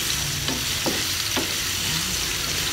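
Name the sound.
sautéing garlic, onion and a little meat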